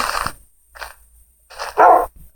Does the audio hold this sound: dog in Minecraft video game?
yes